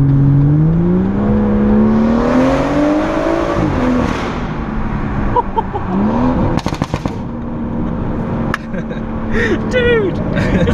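A tuned 460bhp BMW M140i Motech Edition pulls hard from low revs, its engine note rising loud and close through an underpass, with sharp crackles and pops partway through and voices talking over it.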